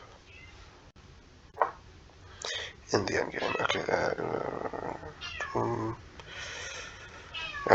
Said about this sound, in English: my cat's calling for me